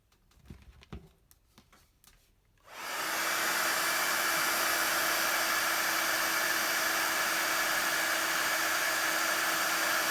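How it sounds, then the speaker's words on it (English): A heat gun blows hot air steadily over a faux metal stamped craft piece, starting after a few soft handling taps and then holding a loud, constant roaring whoosh to the end. "And we bring in the heat gun again."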